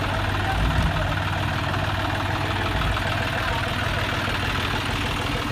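A Powertrac 445 tractor idles at a rural tractor tug-of-war contest, a steady low chugging engine drone that lasts throughout, with people talking nearby.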